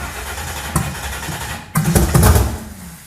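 A car engine cranks briefly, then catches and rumbles up as the throttle is worked, a loud low growl rising and falling near the end.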